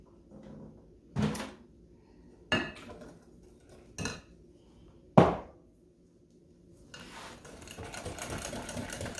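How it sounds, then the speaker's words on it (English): A whisk beats egg custard batter in a batter bowl: a few sharp clinks against the bowl, then a steady, soft scraping swirl building toward the end, quiet and close. "Whisk that up real well"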